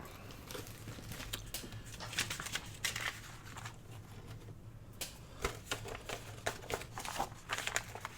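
Sheets of coffee-dyed paper being folded into thirds for a small handmade notebook, giving soft repeated crinkles and creases close by at a low, quiet level with no talking.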